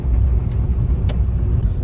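Steady low road rumble of a car travelling on busy NH19 GT Road highway traffic toward the Jharkhand border, a continuous loud drone with a brief hiss passing near the middle.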